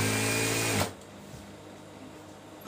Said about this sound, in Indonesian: dan kita mulai menjahit si sambungan spraynya ini